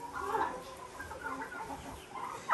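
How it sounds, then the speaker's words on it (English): Chickens clucking at a barn, a steady murmur of fowl calls close by with a louder burst near the end. "The chicks are out again."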